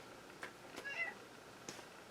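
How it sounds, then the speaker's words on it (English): Indoor cats let out a few short meows, soft and slightly distant, spaced apart in a quiet room. "The cats are interrupting the video."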